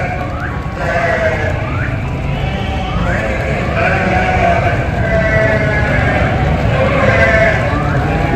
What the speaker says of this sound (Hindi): जो बक्कर वाला है वो अपने पशु वगैरह लेके आ रहे हैं